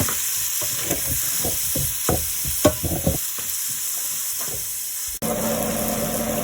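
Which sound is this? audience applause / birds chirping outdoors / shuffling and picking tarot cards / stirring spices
stirring spices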